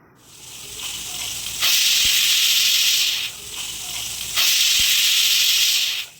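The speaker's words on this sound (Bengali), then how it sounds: "ডালটাকে সিদ্ধ করে নিতে হবে তার জন্য প্রেশার কুকারে জল আর পরিমাণ মতো লবণ দিয়ে দুটো হুইসেল দিয়ে নেবো" A pressure cooker boiling lentils with water and salt releases two loud, sustained bursts of steam hiss, each lasting over a second and separated by quieter venting, with no talk.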